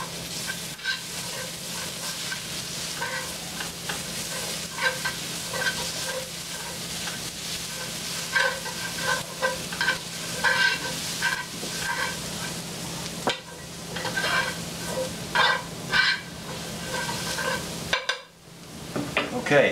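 Garlic sizzles in a pan for a carbonara sauce, a continuous frying hiss with stirring scrapes and clinks of utensils against the pan, close by, ending with a louder clatter.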